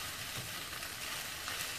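Oyster mushrooms with thyme sizzle and fry steadily in a pan while being stirred, a constant close crackle with no voices.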